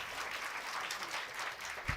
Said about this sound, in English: Clap for the third time.